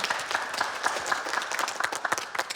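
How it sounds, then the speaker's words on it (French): Store staff at an Action discount shop clap for themselves, a lively burst of many hands with distinct sharp claps standing out, sustained for a couple of seconds in a room. "je pense que vous pouvez vous applaudir"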